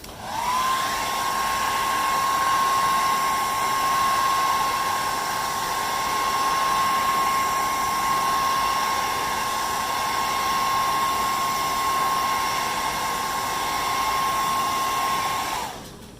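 A heat gun blows hot air onto a vinyl graphic on a Dodge Challenger, a loud, steady whirring blast with a constant high whine that holds unbroken until it switches off at the end.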